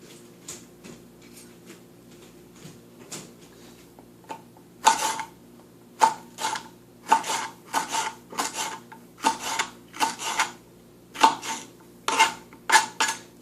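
A kitchen knife and cutlery rattle and scrape in a home kitchen, with soft knocks at first and then a run of louder, irregular clattering bursts close by.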